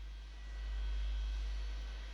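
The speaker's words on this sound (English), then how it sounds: "That's a successful start on engine 2, or engine number 1." A Boeing 727 jet engine in Flight Simulator 2024 spools up as a steady, loud low rumble with a thin high whine layered above, continuous throughout with no talk.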